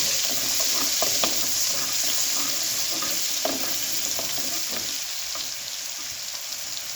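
Garlic frying in leftover oil in a pan used for beef kofta, a steady close sizzle with scattered stirring clicks and pops that eases slightly toward the end.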